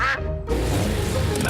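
Cartoon ducks quack loudly in a short burst at the start, followed by a steady noisy background.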